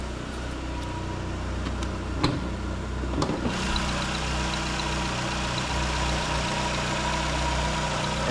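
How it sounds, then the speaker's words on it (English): A Chevrolet Aveo engine idles steadily with a low, even rumble, a few faint clicks near the start, then a constant hum to the end. "Engine running nice and smooth."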